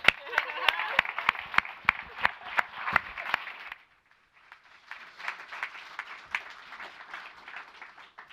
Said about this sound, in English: I know that clapping's for you